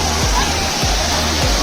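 The Juinagar waterfall roars in a loud, close, continuous wash of falling water, with low rhythmic thumps in the rush and voices faintly mixed in.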